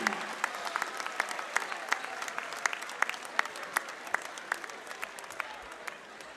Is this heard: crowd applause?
yes